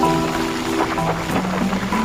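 Steady rain hisses close by, with a low tonal hum running underneath, during heavy rain near the overflowing Aji Dam in Rajkot.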